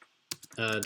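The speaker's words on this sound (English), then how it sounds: "typing is hard" Quick clicks of typing on a computer keyboard, a few sharp keystrokes close by, followed by a person talking.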